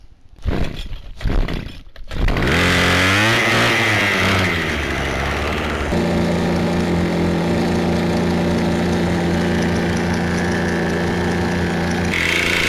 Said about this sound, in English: we're going to fire this up and hook her on, fire it up